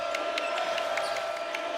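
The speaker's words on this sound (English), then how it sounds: "This crowd trying to will the Green Wave back into it." A home crowd at a Tulane Green Wave college basketball game against Houston keeps up a steady roar of cheering, heard at a distance.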